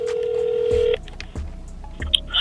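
A phone dials out to call back: a long steady tone, then a few short beeps and low pulses, with a faint chirpy blip near the end, close and clear.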